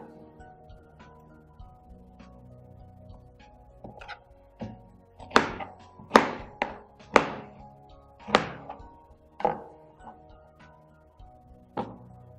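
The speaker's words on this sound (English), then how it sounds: "I've already rinsed out the pineapple, so I'm just going to cut it directly into the blender." A knife cuts through a rinsed pineapple over a blender in a home kitchen, giving a series of sharp thunks and chops that cluster irregularly, close and fairly crisp against a quiet background.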